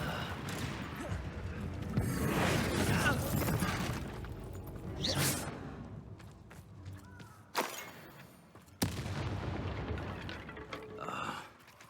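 Confringo and Bombarda spell blasts in the video game Hogwarts Legacy: several loud whooshing bursts and crackling impacts, with sharp sudden hits and rumbling tails between them.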